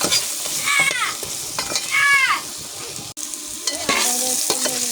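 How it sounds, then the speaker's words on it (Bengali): Turmeric fries in a pan while being stirred for a hilsa fish dish, with a steady sizzle under repeated scraping strokes of a spatula, and a few high metallic squeaks from utensil against pan. "ভালো করে নেড়ে দেবো। একটু লাল লাল করে ভেজে নেব।"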